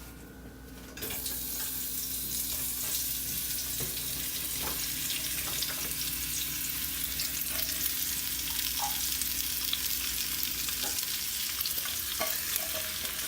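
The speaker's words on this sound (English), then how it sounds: "whenever you are frying onion, add some salt" Onions frying with salt in a pan give a steady sizzle close up, joined by occasional scraping and stirring clicks while making vegetable biryani, with no speech.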